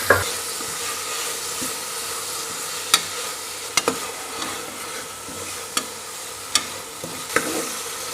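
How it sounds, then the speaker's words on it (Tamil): Ginger garlic paste and tomato sautéing in a pan for paneer biryani, a steady close sizzle broken by occasional sharp spatula taps against the pan. "இஞ்சி பூண்டு பேஸ்ட்டோட ராஸ்மெல் போகிற வரைக்கும் வதக்கலாம்."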